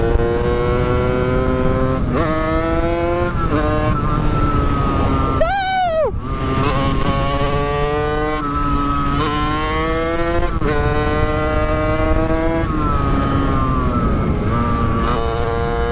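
A motorcycle rides along a road, its engine loud and close throughout, with repeated rising revs and pitch drops at each gear shift, and no voices.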